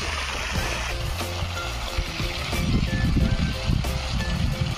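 Water gushing from the 63 mm outlet pipe of a 7.5 HP solar pump, a steady, loud splashing flow that thickens slightly in the second half, with low mechanical hum underneath.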